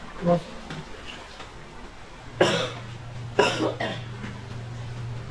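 Two sharp, loud coughs close to the listener, a second apart, with faint murmuring before them and a steady low hum throughout.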